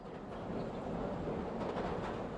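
A Yamanote line commuter train rumbles along in the video game Chaos;Head NOAH, a steady low, dense roar of rolling carriages with faint rattling, continuous and moderately loud.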